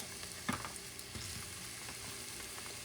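Potatoes frying in a pan while being stirred, a quiet continuous sizzle with a few scraping, clattering stirring knocks near the start, no voices.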